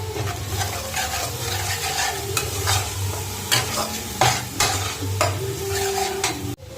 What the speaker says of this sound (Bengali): এখন আমি সোয়া সসটা দিয়ে দিচ্ছি। Tomato sauce, tomato kitchen sauce.